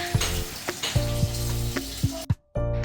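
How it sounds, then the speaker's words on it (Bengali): Cashews and raisins fry in ghee with whole garam masala, giving a loud steady sizzle broken by several sharp stirring knocks and scrapes. The sizzle cuts out briefly near the end, then resumes. "কাজু কিশমিশ, সেটিকেও আমরা একটু ঘিয়েতে নেড়ে নেব"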